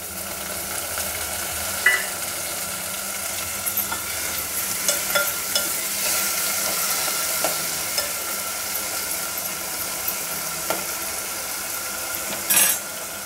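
Tomatoes frying with browned onions in a pan, a steady close sizzle with scattered clinks and scrapes of a spoon against the cookware and no voices.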